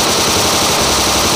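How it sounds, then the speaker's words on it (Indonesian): Rapid automatic fire from a toy Minecraft-style gun, a dense, steady electronic burst of clattering shots that runs loud and continuous throughout, with no voices. "ada senjata Minecraft gun"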